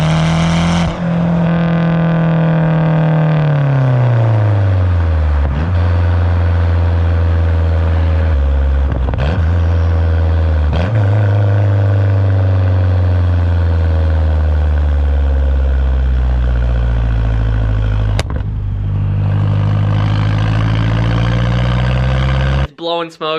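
A Mazdaspeed 6 turbo engine with a newly installed downpipe revs loudly up close, the pitch sweeping down and settling into a steady rumble, with a few sharp clicks along the way.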